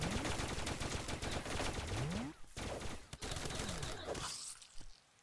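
Rapid automatic gunfire from a player's weapon in the video game Starbound, dense loud bursts with swooping synthetic tones, briefly pausing then resuming before fading near the end.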